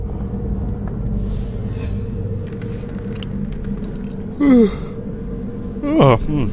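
A person lets out a big, drawn-out yawn with a rising and falling voiced sigh, followed by a second shorter yawn sound, both close and over a low rumbling game background.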